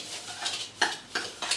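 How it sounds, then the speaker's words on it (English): Butter and sugar being creamed by hand with a spoon in a bowl, giving several distinct scraping, clinking knocks at an uneven rhythm, close and fairly loud with no speech. "So I'm going to cream my butter and my sugar just with a spoon,"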